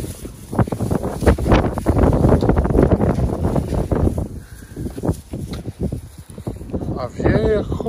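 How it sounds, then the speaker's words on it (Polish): Strong gusty wind buffets the microphone outdoors, loud irregular rumbling bursts that rise and fall, with someone talking over it. "A wieje jak cholera, coś dzisiaj."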